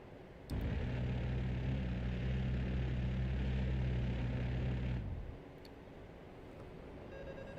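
Jet engine in a flight simulator game roaring under afterburner, a loud sustained rumble that cuts off abruptly after about four and a half seconds, leaving a quieter engine hum.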